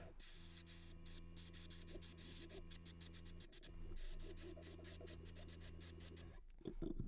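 A steady airbrush hiss, spraying yellow paint onto a frog fishing lure, runs almost continuously with a faint motor hum beneath, broken by a brief pause midway and ending with a few clicks.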